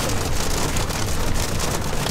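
Steady, dense rain and hail pattering hard on a surface in Norway, a continuous rushing wash with no pauses, close and fairly loud.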